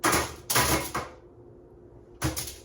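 A knife chops through sweet potato on a cutting board, giving three sharp, close impacts: two in quick succession, a short pause, then a third.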